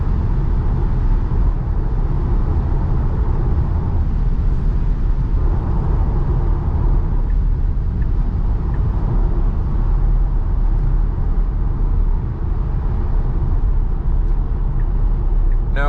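A 2022 Tesla Model Y Long Range on Hankook summer tires, with double-glazed front side windows, fills its cabin with a steady, even rumble of road and wind noise that holds constant throughout at night.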